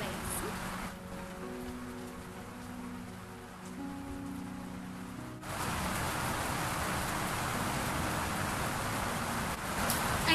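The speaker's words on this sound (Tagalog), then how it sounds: "So, lakas ng ulan!" Heavy rain pours steadily on surfaces nearby, a dense hiss that grows louder and fuller midway and continues unbroken.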